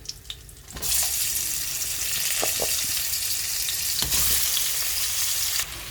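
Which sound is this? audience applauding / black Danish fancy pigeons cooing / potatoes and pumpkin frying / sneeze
potatoes and pumpkin frying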